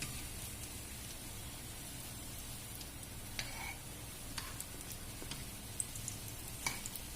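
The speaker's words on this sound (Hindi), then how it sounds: "हम गोल्डन ब्राउन होने तक फ्राई कर लेते हैं हल्की आंच पे" Malai kofta frying in oil over a low flame, a steady soft sizzle throughout with occasional faint pops and crackles, no voices.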